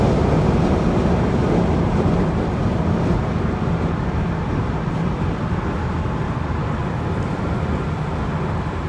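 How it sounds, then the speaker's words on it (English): Steady, loud wind roar and road rush inside a 1997 BMW Z3 2.8 roadster convertible cruising on the freeway, a dense unbroken noise filling the whole stretch. "Little bit of wind noise as to be expected for a convertible."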